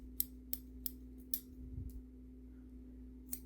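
Scissors trimming a doll's hair, several short crisp snips in an uneven rhythm, close and clear over a steady low hum, with a soft rustle partway through.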